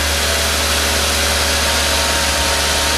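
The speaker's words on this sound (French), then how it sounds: "le moteur est chaud, le ventilateur tourne" A warm car engine idles with its radiator fan running, producing a loud, steady whooshing drone with a low engine hum underneath and no variation.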